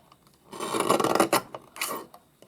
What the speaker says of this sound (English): I really am giving this poor little wee guillotine a workout.